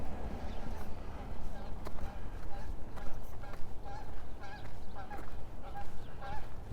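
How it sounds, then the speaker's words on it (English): Geese honk repeatedly through the middle and end of an outdoor walk around a lake by the legislative building in Regina in March, the calls moderately near over steady wind and traffic rumble, with a voice speaking at times. "Another goose."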